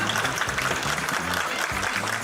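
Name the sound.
studio audience applause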